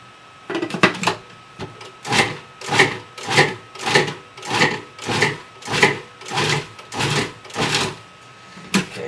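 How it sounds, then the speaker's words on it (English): A food processor pulses a pumpkin cheesecake crust mixture moistened with canola oil, producing about a dozen evenly spaced, loud whirring bursts in a regular rhythm, heard close and alone with no talking. "I'm just going to pulse that one more time"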